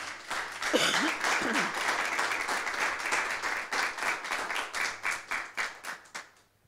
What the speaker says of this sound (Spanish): Den un fuerte aplauso al Señor, amén.